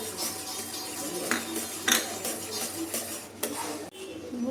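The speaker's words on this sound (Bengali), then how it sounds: "দুধটা ফুটে গেছে, এরপরে আমি গুঁড়ো দুধটা মেশাবো ওর সাথে।" Powdered milk being stirred into boiling milk with cardamom in a pot while making sago barfi: a spoon scrapes and clinks against the pot over a steady bubbling background, with a few sharper knocks.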